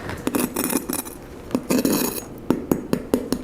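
Crispy skin of air-fried pork belly is tapped with a utensil, giving a series of sharp, hard, glassy clicks in irregular bunches, close and clear against a quiet kitchen background.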